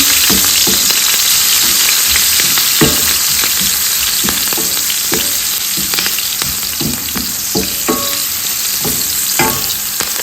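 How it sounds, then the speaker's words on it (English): Gizzard and plantain fry loudly in oil with curry powder, a dense close sizzle broken by frequent spatula scrapes and knocks as everything is stirred together, without voices. "the curry powder for more flavor, and also infuse in the oil. And the baby, guys, stir everything in."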